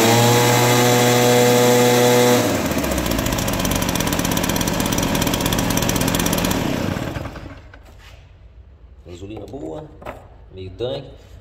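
A Stihl BR 430 backpack leaf blower with a leaking carburetor runs loudly with a steady engine drone, shifts pitch at about two seconds, then cuts off and fades out, followed by faint handling noises.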